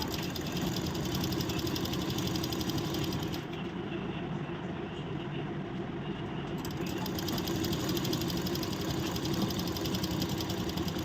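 A sewing machine stitches a princess cut deep-neck blouse, running a steady, dense mechanical whirr from start to finish without pause.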